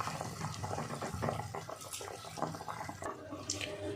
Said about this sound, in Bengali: ঝোল দেখুন এই যে ফুটছে